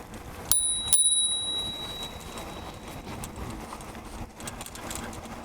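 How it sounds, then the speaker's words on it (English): A bicycle bell on a HOVSCO A5 mountain cruiser e-bike rings twice in quick succession, bright and close, each ring trailing off into quiet outdoor ambience. "It's got a nice little bell there, look, so I'll give it a little dinkle now."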